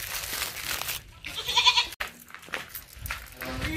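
A goat bleats once, close and loud, amid rustling, wind-like noise and scattered background sounds.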